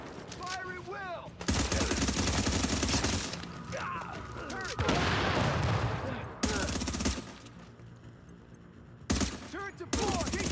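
Sustained automatic gunfire and turret fire in the video game The Division 2 come in long, loud bursts separated by short pauses, with game voices and effects between them.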